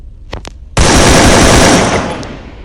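Rapid automatic gunfire in a video game, a loud sustained burst following a couple of short sharp shots, with no talk over it.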